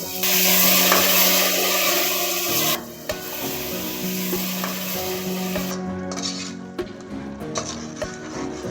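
Tomato juice sizzles loudly in a pan for donne biryani while a spoon stirs and scrapes through it, the hiss easing partway through as the stirring continues close by.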